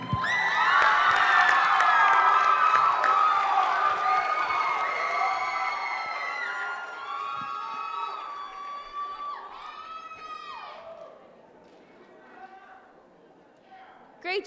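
Loud crowd cheering, whooping and applause for performers at the end of a school talent competition, with excited children's shouts and a voice over the noise, gradually dying down before a brief final burst.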